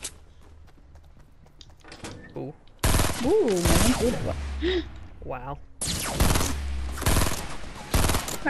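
Burst rifle gunfire in a Fortnite battle royale duos match: two loud clusters of rapid shots, separated by a spell of talk, with voices chattering over and between the bursts.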